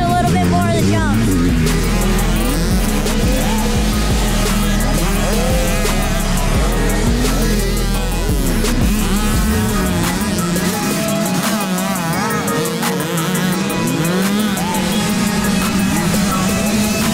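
Motocross dirt bikes running practice laps on race day at the Dade City MX track, with loud, close two-stroke engines revving and shifting continuously and more bikes buzzing in the background.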